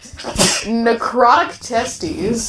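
A single sharp sneeze bursts out up close, mixed in with people talking just before and after.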